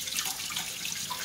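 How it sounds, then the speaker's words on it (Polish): Warm tap water runs steadily over an apple being washed at a kitchen sink while an omelette is prepared, a continuous close splashing hiss with no talk. "mocno trzeba umyć jabłuszko. Ciepłą wodą, żeby wypalić bakterie."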